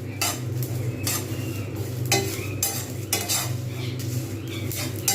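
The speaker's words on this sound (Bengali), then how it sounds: "জাস্ট এইরকম করে বাড়িতে ড্রাই রোস্ট করে তৈরি করে নেটে" Whole spices are dry roasted in a pan and stirred steadily, with repeated scraping strokes of a utensil against the metal and a faint crackle underneath, close and alone.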